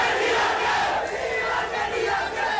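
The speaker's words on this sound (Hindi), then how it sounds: "रजित कुमार जब एयरपोर्ट से बाहर निकले तो लोग झूमने लगे, नारेबाजी भी होने लगी" A large crowd chants and shouts slogans outside Kochi airport, a dense, continuous roar of many voices at steady loudness throughout.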